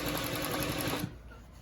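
A chain-stitch single-needle sewing machine running over a double seam on jeans, a fast loud mechanical whir for about a second that then stops.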